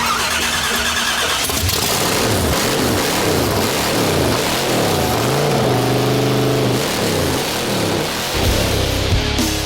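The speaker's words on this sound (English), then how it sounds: "The motor finally fires" A hearse engine cranking over in a garage, its starter churning rhythmically for several seconds before the motor catches and runs rough and loud, close to the pipe after the distributor was turned 180 degrees.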